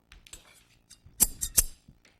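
Several crisp snips of scissors cutting paper, quiet at first, then a few sharper cuts in quick succession near the middle.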